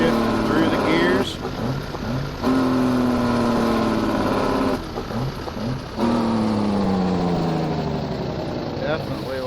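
A tractor engine in Farming Simulator 19 climbs in pitch, drops as it shifts gears, then climbs again, loud and continuous, with someone talking over it.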